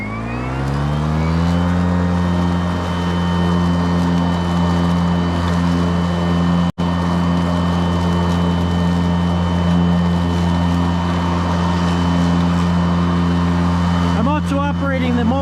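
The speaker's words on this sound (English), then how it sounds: "Operating the mower with one hand, not on the power assist." A Ryobi push mower cutting grass on its mulching setting, pushed one-handed without power assist; a loud, continuous motor hum that holds steady with one brief dropout midway and a rattle near the end.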